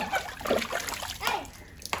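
Shower water splashing on a Labrador outdoors, a brief burst of spattering, trickling spray with a few sharper splashes, while a person speaks over it.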